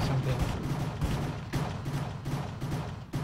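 Rapid bursts of gunfire in the Minecraft game Cops and Crimes, loud repeated volleys in an uneven rhythm of sharp cracks close to the listener, with no talk over them.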